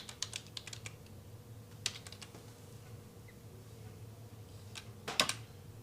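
Computer keyboard typing in scattered bursts of clicks, fairly close but quiet over a steady low hum, with a louder cluster of keystrokes near the end.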